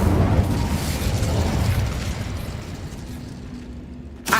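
Incendio fire spell cast in Hogwarts Legacy, a loud roaring blast of flame that slowly fades, ending in a short sharp pop.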